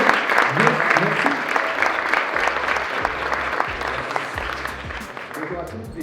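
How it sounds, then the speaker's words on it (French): Audience applause welcoming two lawyers at a business club event, a close, lively burst of many hands clapping with sharp individual claps, while a voice speaks over it at times. "un tonnerre d'applaudissements pour les avocats"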